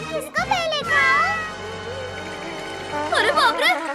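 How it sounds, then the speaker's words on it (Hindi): A high, cartoonish meowing cry from a cartoon cat rises and falls over soft background music, with a child-like voice chattering briefly around it. "अरे बाप रे, ये बिल्ली कहाँ से आ गई?"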